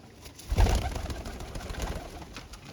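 Pigeons in a loft give soft, throaty cooing close by, with one fuller coo near the start and quieter murmuring that follows, with no voices.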